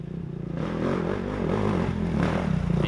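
An off-road racing motorcycle engine holds a steady, droning throttle while picking through a rocky trail at a GNCC race, with continuous loud buzzing and some clatter of the rough ground.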